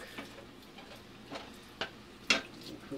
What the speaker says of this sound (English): we want to make sure we stir our cabbage so they cook